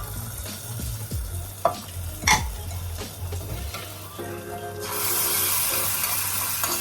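Hot oil tempering with red chili sizzles loudly as it is poured into a pot of lentils, with stirring clatter first and then a sustained hissing fry.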